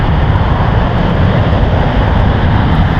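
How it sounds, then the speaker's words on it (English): A loud, continuous jet roar of an airliner departing at San Francisco International Airport, a broad steady rumble that fills the whole stretch without a break. "Currently have a 737 and a Hawaiian about to depart here."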